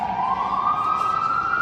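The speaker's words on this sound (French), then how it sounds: "les sirènes très new-yorkaises" An FDNY fire engine siren wails on a New York street, a loud rising tone that climbs smoothly and holds high, heard alone over low traffic rumble.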